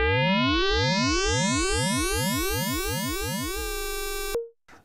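An ARP 2600 Blue Marvin patch, FM from the second oscillator driving a fully resonant filter swept by an envelope, makes a rapid series of swooping, bouncing sine-like chirps that rise and fall, then settles into a held tone before it cuts off abruptly.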